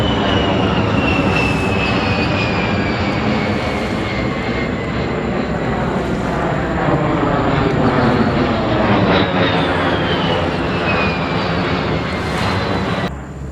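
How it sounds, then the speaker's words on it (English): Five fighter jets fly low overhead at a state park, a loud continuous roar with sweeping whine tones that fill the air without pause. "We just had 5 fighter jets fly over us."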